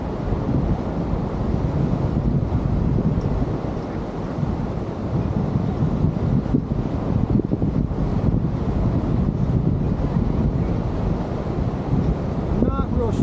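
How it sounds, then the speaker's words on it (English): Strong wind buffets the microphone continuously at a whitewater center, a loud rumbling roar with gusty fluctuations and no pauses. "A little bit windy too,"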